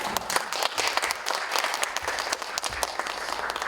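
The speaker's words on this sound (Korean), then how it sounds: "박수까지 감사드립니다" Audience applause at a Christian creators conference talk, a full, steady burst of many people clapping at once, loud and sustained throughout with a faint crowd murmur beneath.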